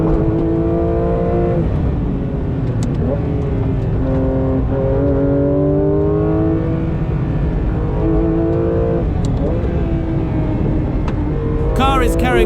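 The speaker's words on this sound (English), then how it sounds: "Car is carrying so much speed through these sections." A Manthey Racing Porsche GT3 RS race car rises and falls through repeated gear changes on track, loud and steady, while a voice speaks over it.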